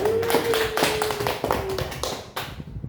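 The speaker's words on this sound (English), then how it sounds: "Give applause to everyone" A classroom gives brief applause, a quick patter of clapping hands, fairly close, fading out after a couple of seconds.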